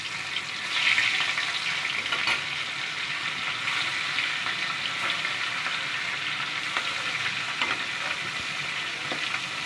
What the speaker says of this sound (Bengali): পুঁটি মাছটা দিয়ে দিলাম